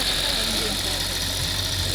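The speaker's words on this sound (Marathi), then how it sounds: "हिच्यात गाडी चालू झाली हिच्यात गाडी चालू होते" A car engine runs steadily at a low, even level amid a broad background hiss, with no distinct revving.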